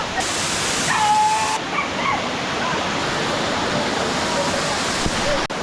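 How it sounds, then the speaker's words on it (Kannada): A continuous roar of falling water fills the scene, with faint voices and a brief whistle-like tone near the start. "ಹುಳಿಮಾಗೋಡ್ ಫಾಲ್ಸು ಐವತ್ತು ಅಡಿಯಿಂದ ಬೀಳ್ತಾ ಇರೋದು ನೀರು"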